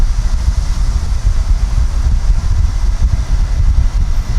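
Wind buffeting a Zoom H1N handheld recorder fitted only with its foam sponge cover on a breezy beach: steady, loud low-frequency rumble and gusty thumping throughout, with no voices.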